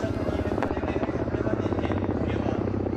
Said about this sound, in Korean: 보시는 헬기는 구소련에서 제작된 까모프 KA-32 기종입니다